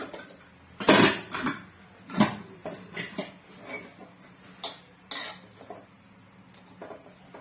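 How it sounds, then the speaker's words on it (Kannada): Rice tipped into a cooking pot for coconut mustard rice and stirred, giving a handful of sharp metallic clinks and scrapes of a spoon against the pan, loudest near the start, then lighter scattered taps. "ರೈಸ್ ಹಾಕೋತಾ ಇದ್ದೀನಿ ಇವಾಗ ಚೆನ್ನಾಗಿ ಮಿಕ್ಸ್ ಮಾಡಬೇಕು"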